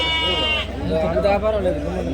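A goat bleats loudly and close by, its wavering cry rising over a person talking.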